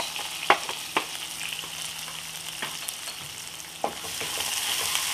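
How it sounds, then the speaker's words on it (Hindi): Onion, curry leaves and green chilli frying in a pan for rava upma, a steady crackling sizzle broken by a few sharp utensil clicks and scrapes of stirring. "सभी चीज़ों को हमें हल्का सा फ्राई करना है, रोस्ट करना है, ब्राउन नहीं करना है।"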